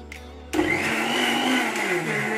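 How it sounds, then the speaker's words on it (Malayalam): A kitchen mixer grinder starts up and grinds coconut for a curry, a loud steady whirring motor drone that holds evenly for about two seconds after a quieter start. "തേങ്ങ നന്നായിട്ട് അരച്ചെടുക്കുക."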